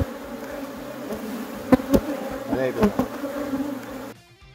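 Honeybee colony buzzing around an open hive during a beekeeper's inspection, a steady close drone with a few louder passes of individual bees, cut off abruptly near the end.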